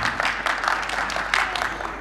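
Audience at a community mushaira poetry gathering applauding, a steady wash of many hands clapping throughout, fairly close and filling the room, with no speech over it.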